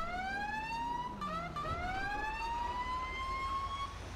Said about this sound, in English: I love my new siren.